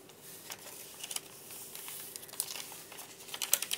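Craft paper for an altered travelers notebook being handled and crinkled up close, with soft irregular rustles and crackles building toward sharper crinkles at the end, no talk.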